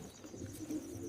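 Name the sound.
pigeons cooing, Arshad line pigeon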